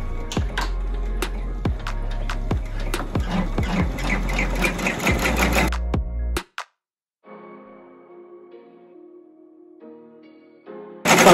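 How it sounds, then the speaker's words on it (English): An embroidery machine stitches a monogram appliqué onto a hoodie, a rapid, loud, rhythmic mechanical clatter of needle strokes that stops abruptly, followed by quieter faint machine sounds and then a return of louder stitching. "this one takes 8 minutes to stitch out"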